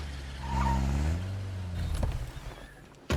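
A damaged car engine in State of Decay 2 cranks and revs alone for a few seconds, with a rising then falling drone and rough sputtering toward the end.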